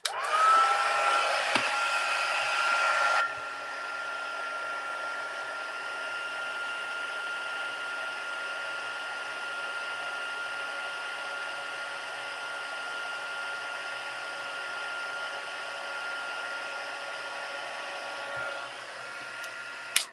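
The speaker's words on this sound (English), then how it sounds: "it takes a minute to heat up the gun, so I'm going to heat up the gun first" A heat gun blows a steady, loud whirring rush, strongest over the first three seconds and then settling into an even hum for the rest, ending with a small click.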